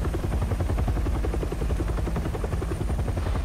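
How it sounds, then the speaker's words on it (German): A helicopter in the video game Resident Evil 7, its rotor thumping in a fast, steady pulse with a constant loud engine drone throughout. "Okay, Helikopter."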